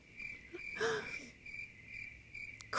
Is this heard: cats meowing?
no